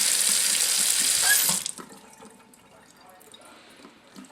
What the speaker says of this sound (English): Drain all the water out. You can see the water dropping out there.